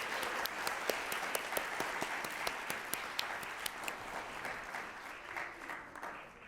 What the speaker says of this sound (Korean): 두 사람에게 다시 한 번 더 격려의 큰 박수